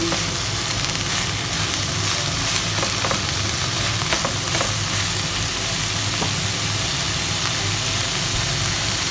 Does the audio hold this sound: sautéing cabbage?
yes